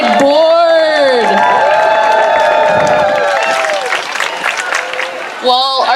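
A large outdoor crowd at a Pride celebration claps, cheers and whoops continuously, loud and dense, with shouting voices rising above the applause.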